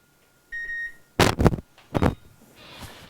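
An oven switched off: one short beep, then three sharp clicks or knocks in quick succession followed by a soft rustle.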